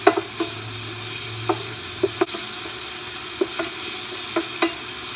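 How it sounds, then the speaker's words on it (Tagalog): A spoon stirs tomato sauce with dried basil in a pan, a background sizzle under a handful of sharp scraping clicks spread across the stretch, close and moderately loud. "So, halu-haluin lang natin to."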